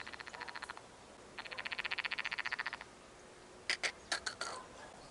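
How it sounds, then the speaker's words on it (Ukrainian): Faint frogs croak in quick rattling trills, two bursts of rapid clicks followed by a few sharper separate croaks over a quiet outdoor hiss. "Жаби ржуть з мене."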